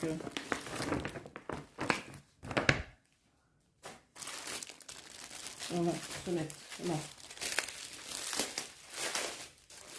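Plastic packaging around cross-stitch supplies crinkles and rustles in bursts close by while a person talks, with a brief pause of quiet partway through.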